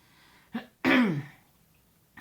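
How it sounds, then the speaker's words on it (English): A short cough followed by a rough, harsh throat clear, close and fairly quiet, then a brief faint sound at the end. "As I choke and cough."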